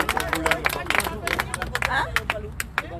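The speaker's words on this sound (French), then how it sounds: "Applaudissez Maître Doznak, s'il vous plaît." Outside a criminal court in French Guiana, a crowd applauds a lawyer: dense, uneven clapping close by, mixed with chatter and voices from the gathered people.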